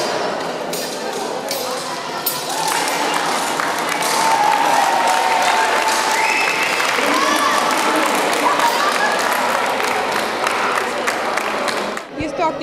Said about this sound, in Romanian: Elevii au aplaudat reprezentațiile protagoniștilor